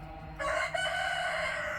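A rooster crows close by, one loud sustained call of about a second and a half that breaks in suddenly after a short quieter lead-in of farmyard fowl sounds.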